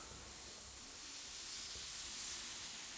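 An airbrush gun sprays body paint in a steady, soft, continuous hiss that holds at an even level, with no talking.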